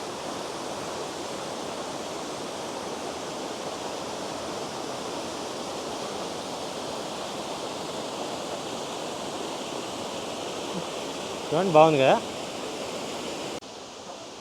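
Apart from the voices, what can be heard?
waterfall in the Black Forest, Germany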